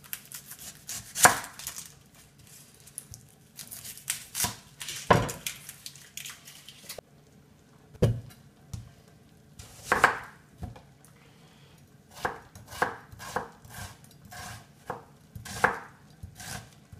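A knife chops an onion on a cutting board in a home vegan kitchen, with steady, close, irregularly spaced thuds over about seventeen seconds.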